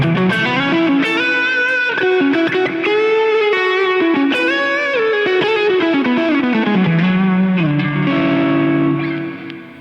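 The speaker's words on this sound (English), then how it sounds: "the first tones that I've sort of got out of it" An electric guitar played through a Tate FX Antares overdrive pedal rings out with distorted, sustained chords and bending single notes in a continuous phrase, loud and close, fading at the end.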